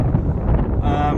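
Strong wind blows across a beach at Sotavento, Fuerteventura, a steady, loud buffeting rumble close to the microphone that continues without a break.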